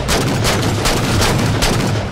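Rapid gunfire from a sniper jackal in Halo 4 Spartan Ops, a dense run of loud, overlapping shots and booms filling the whole moment without a break.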